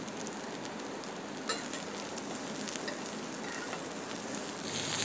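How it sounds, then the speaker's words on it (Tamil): Ridge gourd for a South Indian poriyal sautés in a pan, giving a steady, dense sizzle and crackle that holds throughout, with a brief sharper burst near the start and no voices. "இந்த பீர்க்கங்காயை போட்டு நல்லா வதக்கிக்கோங்க"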